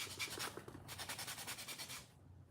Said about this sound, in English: ideally you want to use all 3 sides of the buffer